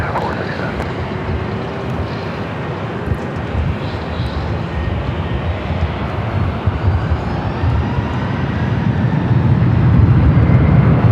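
Delta airliner taking off at Los Angeles International Airport, bound for Honolulu, its engine roar a broad steady rumble that grows louder toward the end, with wind buffeting the microphone.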